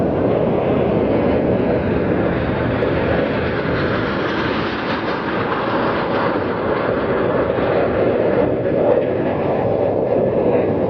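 A loud, steady jet roar fills the whole stretch, a broad continuous rumble with no voices, like the Baltic Bees Jet Team aircraft passing close overhead at an airshow.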